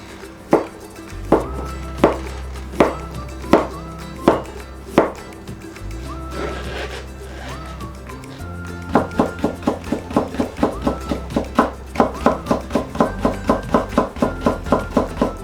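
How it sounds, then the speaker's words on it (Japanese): A knife cutting carrots into thin matchsticks on a cutting board: sharp, close taps, evenly spaced at first, then a brief pause and a fast, steady run of chops, with soft background music underneath. "人参は千切りにしていきます。"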